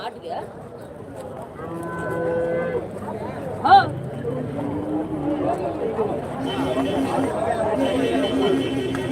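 Calves and cattle at the Karimangalam cow market, with a loud moo rising above a constant murmur of crowd chatter and nearby talking, and more lowing in the background.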